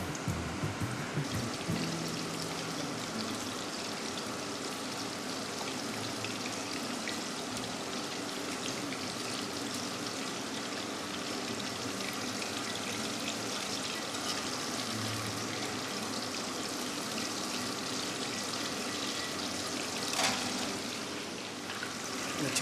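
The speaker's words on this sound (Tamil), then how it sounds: "இந்த சிக்கனை ஃப்ரை பண்ணுறோம்." Chicken pieces deep frying in hot oil for orange chicken, a steady, dense bubbling hiss that fills the whole stretch without pause or talk.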